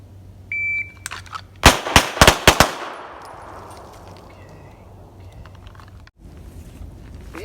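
Pistol shots fired in a bill drill: a tight burst of about five sharp, loud reports in quick succession, trailing into an outdoor echo, after a brief electronic beep from a shot timer.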